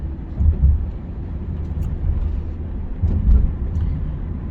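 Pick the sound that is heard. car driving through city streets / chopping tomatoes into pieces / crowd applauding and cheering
car driving through city streets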